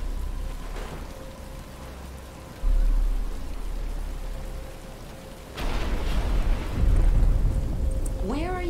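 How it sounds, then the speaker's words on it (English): Steady rain hisses down in a Batman: Arkham Asylum flashback street scene, with low rumbling swells partway through and a voice coming in near the end. "But it's starting to rain."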